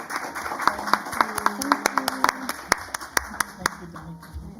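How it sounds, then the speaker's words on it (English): A small conference audience claps for the panelists and organizers: sparse, distinct handclaps in an uneven rhythm that thin out toward the end, with faint talk underneath. "Maybe an applause for the panelists and organizers"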